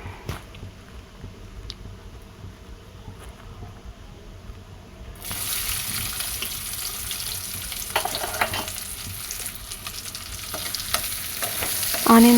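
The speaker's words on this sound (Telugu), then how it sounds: "ఆయిల్లో బాగా ఫ్రై అయ్యాక చిన్నగా కట్ చేసి పెట్టుకున్న ఒక మీడియం సైజ్ ఆనియన్ అయితే వేసుకోవాలి" Chopped onion hits hot oil with spices and fries in a pan. A quiet low background gives way to a loud, steady sizzle, with occasional stirring clatter and no talking.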